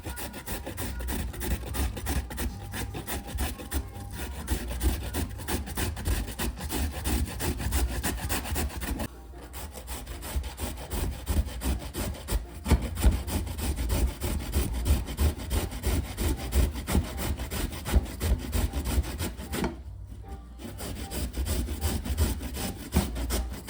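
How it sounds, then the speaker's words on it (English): Sweet potato being grated by hand for an old-school Jamaican sweet potato pudding, a steady rasping scrape repeated in fast back-and-forth strokes, loud and close, with only brief pauses. "going back to the grating process again"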